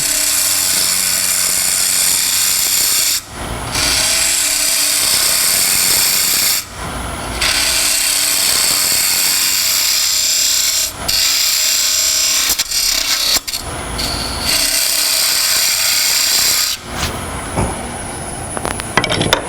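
A wood lathe roughs out a turned lidded box, the gouge making a loud, steady hissing, scraping cut that runs nearly the whole time with a few brief dips as the tool lifts off. No one speaks.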